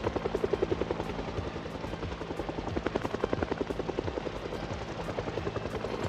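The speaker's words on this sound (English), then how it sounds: "get the helicopter event to kind of pull most of the zombies out from one of the towns that I'm working in" A helicopter flies overhead in a zombie survival video game, a loud rhythmic rotor chop that pulses steadily throughout and swells at moments, with no talking.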